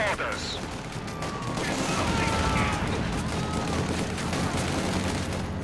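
Gunfire from SVT-40 semi-automatic rifles used by Penal troops in the Company of Heroes 2 game, a dense battle fusillade of overlapping shots and distant booms, with a voice talking over the din.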